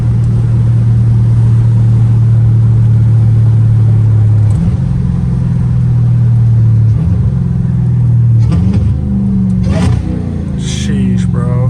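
A straight-piped Dodge Challenger Hellcat Redeye drones loudly from inside with its exhaust valves open, a deep steady rumble stepping through several upshifts, with a voice talking briefly near the end.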